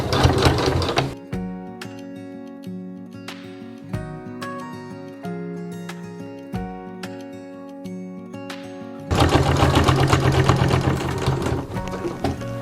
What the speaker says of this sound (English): Now I like stitching from the outside of the bag because that's what you really see.